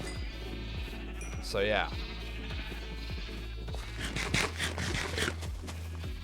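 A single wavering sheep bleat rises from a Minecraft game world, a brief call heard over steady background game noise, with a person talking casually nearby.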